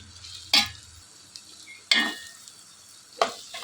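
Boiled chicken liver frying with onions in a pan, heard as three sharp scraping stirs spaced about a second and a half apart over a faint background sizzle, close and clear.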